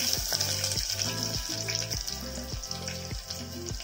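Curry leaves sputter in hot oil with cumin, garlic and green chilies for a bhindi masoor dal tadka, a close, crackling sizzle that pulses in quick regular bursts.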